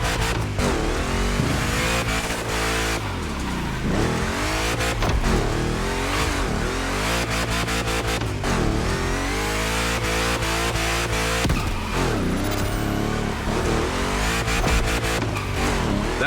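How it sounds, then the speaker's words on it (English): In The Crew Motorfest, a big-block street car races and drifts during a Hoonigan gymkhana event, its engine revving hard and rising and falling through gear changes, loud and close, with tire squeal and no talk. "You can drift the streetcar for sure, but it's at your own risk with the handbrake"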